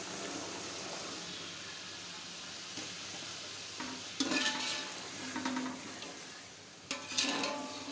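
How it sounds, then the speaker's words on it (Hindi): Chickpeas cook with masala in a pot, giving a soft continuous sizzle with occasional clinks and scrapes of a spoon against the metal, close up and without voices. "चनों को थोड़ा पकाएंगे हम मसाले के साथ ताकि अच्छे से इसमें टेस्ट आ जाए चनों में भी।"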